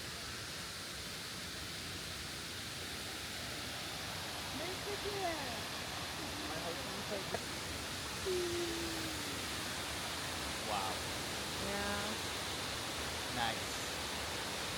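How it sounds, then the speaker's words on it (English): Steady broadband rush of Shiraito no Taki, a waterfall in Japan, continuous and fairly loud, with a few short exclamations from people nearby over the roar. "The waterfall's name is Shiraito no Taki."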